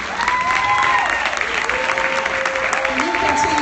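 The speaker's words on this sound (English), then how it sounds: "Can you continue to applause" An audience at a women's awards ceremony applauds, a sustained dense clapping that fills the room, with cheering voices and whoops rising over it throughout.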